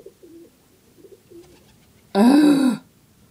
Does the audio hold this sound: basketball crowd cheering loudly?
no